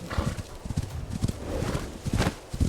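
Mongol horses gallop in an Age of Empires IV cutscene, with rapid, close clip-clopping hoofbeats in uneven bursts and no talk over them.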